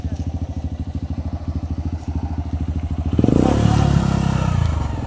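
A motorcycle engine idles in a fast, even chug with the clutch held in, then revs up loudly for the last couple of seconds, close and alone.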